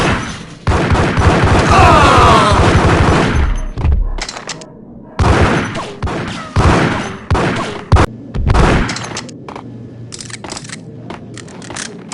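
Gunfire in Max Payne on PlayStation 2, loud close bursts of shots and crunching impacts that break off and return in shorter volleys, with a voice speaking between them.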